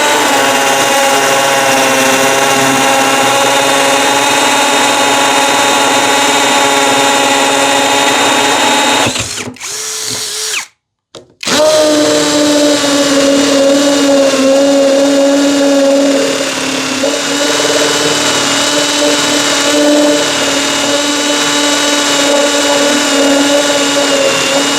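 Impact drill boring with a 12 mm bit, a loud continuous whining drone that stops briefly midway and then resumes, close and steady without talk.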